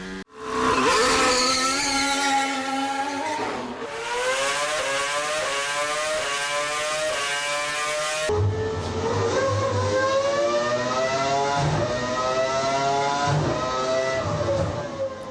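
High-pitched Formula One hybrid racing engines whine and rise in pitch as they accelerate past, loud and sustained, with gear changes breaking the rising tone.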